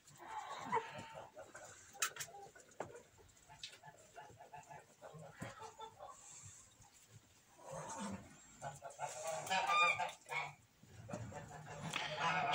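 Tula fighting straight-beaked geese honk in a flock, with loud irregular calls coming in bursts, heaviest near the end, over a quieter farmyard background.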